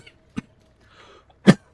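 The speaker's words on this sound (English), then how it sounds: "I still can't believe I'm coughing like almost 2 months later." A person gives two dry coughs close to the microphone, a short one followed about a second later by a louder, fuller one, with near silence between.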